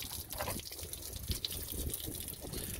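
Water gushes and trickles out of a hydroponic system during a hard freeze, a steady close liquid wash with a couple of small knocks and no speech.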